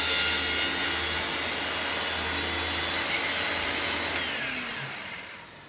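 A Miele U1 Automatic upright vacuum cleaner motor runs loud and close with a steady broadband roar and whine, holding constant before tapering slightly at the end.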